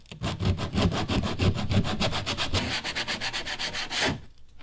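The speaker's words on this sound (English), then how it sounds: "We're going to be using 60 grit sandpaper." Plastic tank surface being roughed by hand with 60 grit sandpaper, a steady rhythmic scraping of quick back-and-forth strokes, close and loud, stopping near the end.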